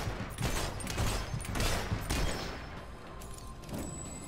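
Rapid gunfire from the video game Fable 3, several bursts of shots crackling through the first half, then easing into softer, scattered noise.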